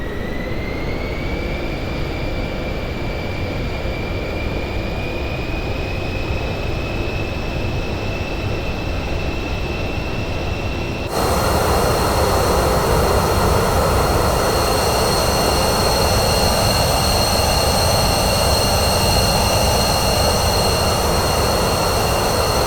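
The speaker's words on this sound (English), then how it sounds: "And we are going to bring the throttles up." Simulated airliner engines whine steadily, then surge louder and fuller as the throttles come up, with a high turbine tone rising in pitch over a broad continuous roar, close and sustained.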